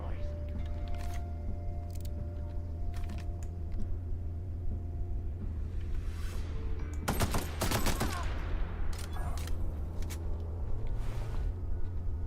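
Gunfire in The Outer Worlds, a few scattered sharp cracks over a steady low hum, then a dense cluster of rapid shots in the middle, with a voice talking faintly underneath.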